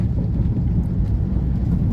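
Light rain falls outdoors on farmland as the wind gusts, giving a steady, dense rushing roar with no break and no voices.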